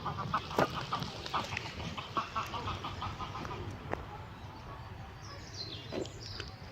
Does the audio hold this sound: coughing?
no